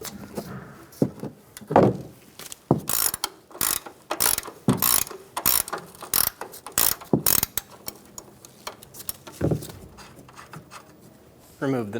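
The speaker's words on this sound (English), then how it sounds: "Remove the nut." A ratchet loosens a control arm nut on a 2014-2018 Chevrolet Silverado 1500, its pawl clicking in quick uneven bursts with short pauses between strokes, close and fairly loud.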